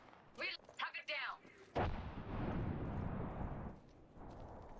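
A frag grenade goes off in a first-person shooter game, one loud close boom that rolls into a long rumbling decay, following brief radio-style chatter and game sounds, with voices talking over the scene.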